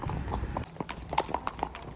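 Horses hacking along a main road, their shod hooves clip-clopping in a clear uneven rhythm on tarmac, close and moderately loud, with light background noise.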